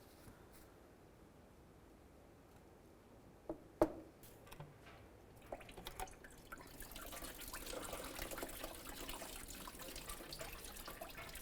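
Coolant draining from the water pump of a 2009-2020 Dodge Journey engine begins with a few faint taps and drips, then settles into a soft, continuous trickle of liquid close by.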